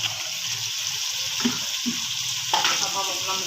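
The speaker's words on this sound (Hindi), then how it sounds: "अब हम अपना मसाला जो है ना अच्छे से भून लेंगे।" Tomato, green chilli and spice masala frying in a pan, a steady bright sizzle with a few louder stirring scrapes and clatters near the middle and end.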